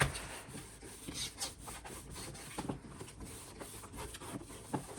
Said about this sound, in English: So we're just gonna go through each side and burnish down.